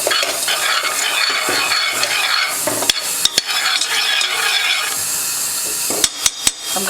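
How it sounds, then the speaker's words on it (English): Garlic powder being stirred into melting butter in a pan while preparing baked ziti with sausage: a steady close scraping and sizzling, with a few sharp utensil clacks against the pan near the end. "And garlic powder. And mix this up."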